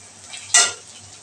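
Turmeric frying in a pan with tomato in a home stuffed capsicum recipe: a soft background sizzle with one brief, sharp burst of hiss, like a stir or a spoonful hitting hot oil.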